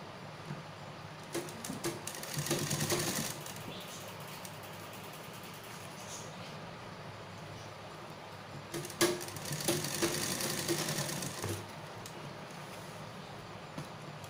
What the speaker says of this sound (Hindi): इसी तरीके से हम दूसरे हिस्से में जो हमारा कट है इस पर भी हम सिलाई लगा के